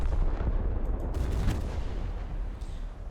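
Battleship main guns firing in the naval combat game War Thunder, set among French warships of 1916 to 1930, giving a loud, continuous rumbling barrage of heavy gunfire with layered booms and no talk.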